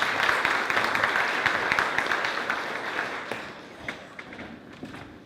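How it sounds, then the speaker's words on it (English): An indoor audience at a book launch applauds, a dense wash of clapping that holds steady and then thins toward scattered individual claps as it fades. "Please give him a round of applause"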